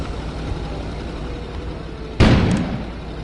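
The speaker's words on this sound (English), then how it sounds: "An explosion suddenly occurred outside." A sudden explosion outside in the Kona video game, one sharp loud boom over quiet ambience, followed by a decaying rumble.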